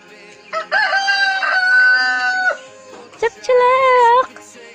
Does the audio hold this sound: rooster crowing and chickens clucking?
yes